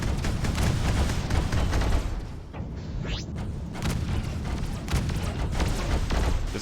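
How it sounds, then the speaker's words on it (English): Missiles launching and exploding in the space combat game Freelancer, a dense, continuous barrage of booms and blasts with a brief whooshing streak partway through, loud and without talk. "I love watching the missiles go off."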